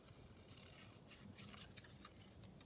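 Scissors cutting paper for a small journal cover, soft close snips and rustling at a low level, with no talk.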